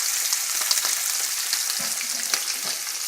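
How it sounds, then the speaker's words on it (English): Breaded milkfish fries in olive oil over heat just above medium, giving a bright, steady crackling sizzle with scattered pops, close and alone without voices. "And you want to fry until you get just a nice golden brown."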